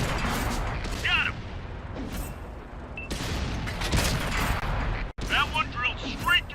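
Tank cannon shells from a World of Tanks battle slam into and punch through armor, giving a few sharp, loud impacts and booms mixed with broadband combat noise, with a voice talking over the action.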